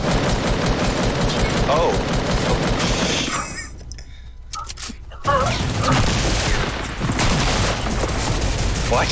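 Gunfire rings out in a Fortnite Creative Mode sniper shootout, with rapid bursts of shots and booms, a brief lull in the middle, then dense firing again, while a player gives a short exclamation.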